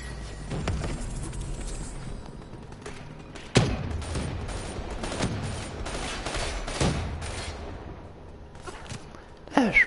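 Gunfire in a shooting video game: repeated sharp shots and bursts spread across the stretch, with louder single cracks near the middle and end, over a steady background of game noise.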